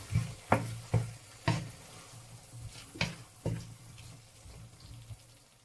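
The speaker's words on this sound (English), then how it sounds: "So we're gonna bring in our beans, get everything out of there, give it a quick stir." White beans tipped into a hot pan with ghee and stirred, heard as a series of distinct scraping and knocking utensil strokes over a low sizzle, fading slightly toward the end.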